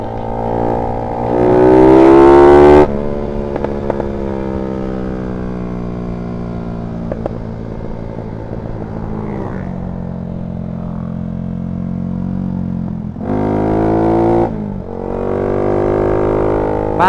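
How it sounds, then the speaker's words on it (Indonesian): A Honda Sonic motorcycle engine revs up twice, loud and close, then settles into a rough idle with scattered crackling pops from the exhaust. "Mantap ini suara jeblok-jeblok ini."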